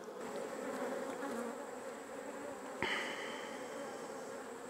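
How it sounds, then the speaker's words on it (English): Honey bees at a defensive hive being worked on an overcast day, a continuous soft buzz droning close by throughout, with a brief sharp tap partway through and no talking. "All the bees are home."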